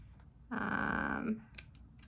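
Scissors slicing through card sketch paper, cutting a piece down to size: one steady, close snip-and-slide lasting under a second, followed by faint rustling of the paper.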